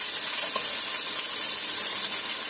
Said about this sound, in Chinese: 咁咧而家我哋就可以攞去煎啦。